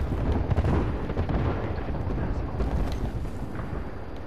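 Heavy, sustained rumbling blasts from an airstrike in the video game Apex Legends, a loud continuous barrage of booming explosions with no clear gaps between impacts.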